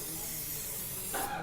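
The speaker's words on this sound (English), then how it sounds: "So I just spray" Cooking spray hissed onto a pan from an aerosol can, one continuous close breathy burst for just over a second before it stops.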